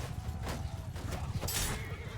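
A horse whinnying amid cavalry combat in Mount & Blade 2 Bannerlord, a short strained neigh over a busy rumble of hooves and battle noise.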